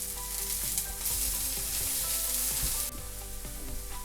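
Rosemary roasts in a pan for spaghetti bolognese, a bright close sizzle with a few stirring scrapes over background music, the hiss easing slightly near the end.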